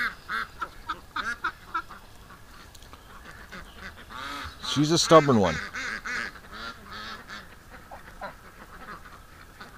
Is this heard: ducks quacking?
yes